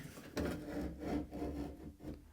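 A car body part scraping and rubbing as it is opened during a frame-off restoration, a steady dull grinding friction sound lasting a couple of seconds, close and moderately loud.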